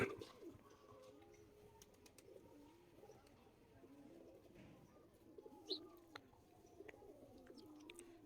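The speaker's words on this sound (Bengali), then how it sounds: "কবুতরগুলো ছাড়ার পরে ওরা ডাকাডাকি নিয়ে ব্যস্ত হয়ে পড়ে, উল্টা পাল্টা ডাক" Pigeons coo in repeated soft, rolling calls from several birds, faint and close, with scattered small chirps and clicks between them.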